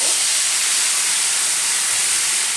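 Water poured into a hot pan holding ground cumin sizzles and hisses loudly as a steady, dense wash of steam noise, close and continuous without a break.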